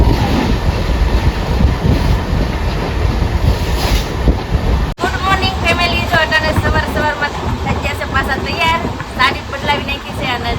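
A passenger train runs on its rails with a loud, continuous rumble and clatter. Partway through, voices and chatter begin inside the carriage and continue over the running noise.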